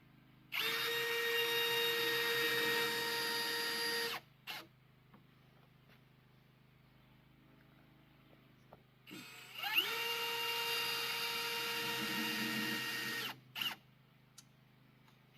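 Power drill driving screws into wooden boards on an outhouse board-and-batten roof build: two long, steady whirring runs of about four seconds each, close and loud, separated by quiet, each ending with a short burst.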